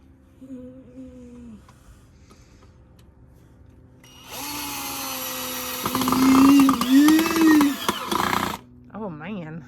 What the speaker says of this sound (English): He's discovered a love for drilling.